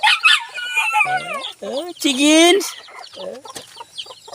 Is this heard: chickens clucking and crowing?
yes